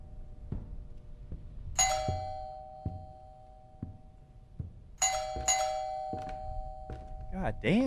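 Doorbell rung over and over inside a horror video game, bright two-tone chimes bursting out in quick repeated clusters over low background noise and knocking thuds, with a voice speaking near the end.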